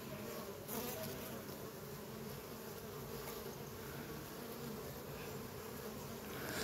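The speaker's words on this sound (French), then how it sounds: "Joli, hein, toutes ces abeilles là." Honey bees at an apiary: a dense, steady drone of many buzzing insects close by, faint overall and unbroken throughout, with no talking.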